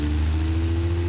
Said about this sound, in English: And then you get it all the way up in the RPM.